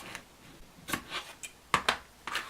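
Scissors cutting fabric for a lavender bag, a few close, crisp snips and slicing swishes spread unevenly over a quiet background.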